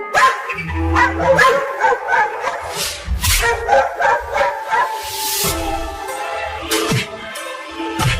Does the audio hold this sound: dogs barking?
yes